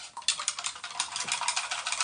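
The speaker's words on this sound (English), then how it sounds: "We're going to dissolve that gelatin straight into there, and we will just give this a quick whisk." A quick whisk stirs gelatin into liquid for pineapple jelly, producing rapid, rhythmic, close swishing and light tapping strokes that run continuously without talk.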